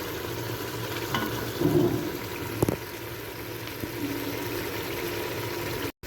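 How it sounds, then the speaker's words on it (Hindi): Mutton gravy masala with green chili paste being fried and stirred in a cooking pot, giving a steady low bubbling sizzle with a few scraping stir sounds, close and moderately loud, no voices. "अब हम इसको भी अच्छे तरीके से भून लेंगे।"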